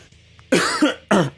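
Two sharp, close coughs, one after the other with a short pause between them, in an otherwise quiet room.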